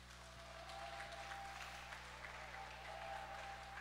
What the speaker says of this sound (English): Please, big applause to Chutima Sainlar.